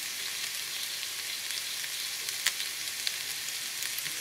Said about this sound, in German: So, jetzt kommt das Eiweiß in die Pfanne.